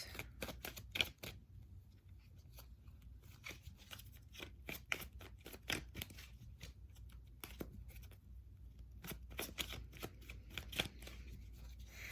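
Tarot cards are shuffled and pulled from a deck: quick, soft riffling bursts and crisp card snaps repeat in irregular clusters, close and fairly quiet, with no talking.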